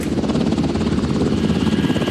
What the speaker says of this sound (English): Helicopter units like this one are spread out all over Iraq so that no injured man or woman is more than 20 or 25 minutes from their reach